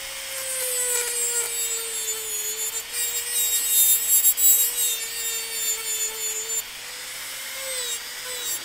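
Gel nail filed back and forth at full speed with a light touch, shaping it to an almond form; steady close rubbing rasp runs throughout with a faint tonal hum beneath and no talk.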